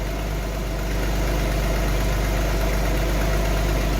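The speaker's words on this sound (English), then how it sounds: "Engine sounds pretty good." An old Alfa Romeo GTA engine idles close by with a steady, low rumble and a faint rhythmic tick underneath, no talking.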